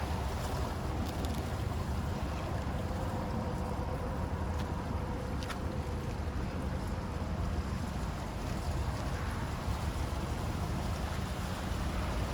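An RV black water holding tank empties through its dump hose outdoors, a steady low rushing and gurgling wash that runs unbroken for the whole stretch under wind-like noise, with no talking.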